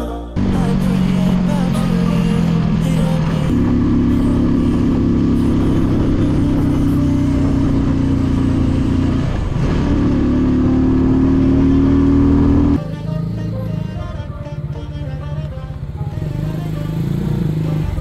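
Several motorcycles idle and rev nearby at the start of a morning group ride, a loud steady engine drone that rises in pitch, then drops abruptly to a lower rumble.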